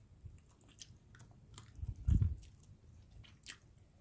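Pork slices being chewed and eaten close up, soft biting and mastication sounds with one louder crunchy bite in the middle, alone without talk.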